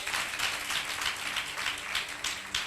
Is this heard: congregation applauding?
yes